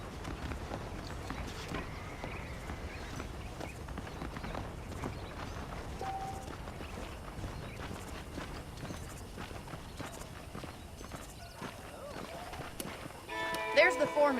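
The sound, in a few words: saddled horse riding in a cowboy video game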